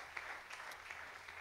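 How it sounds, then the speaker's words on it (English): A church congregation claps in praise during a pastoral send-off service, a faint, distant, steady patter of hands with a low hum underneath. "Could we double that hand clap again and give our God"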